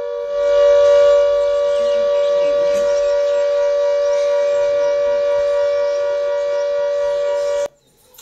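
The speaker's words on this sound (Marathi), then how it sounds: "जम्मू काश्मीरमधल्या पूंछची दृश्य सायरनचे आवाज आपण ऐकले।" Civil defense sirens wailing over Poonch in Jammu and Kashmir after cross-border shelling, a loud sustained steady tone that holds for several seconds before cutting off abruptly.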